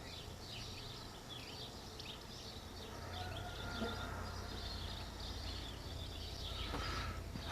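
Birds calling outdoors along a walk to the sea in Corfu, scattered chirps and tweets fairly far off, soft and continuous over a low background hum.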